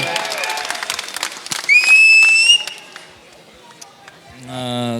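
A rap battle crowd cheers and makes noise for a rapper, loud bursts of applause, whoops and whistles rising and falling, with a shrill tone and a voice breaking through near the end.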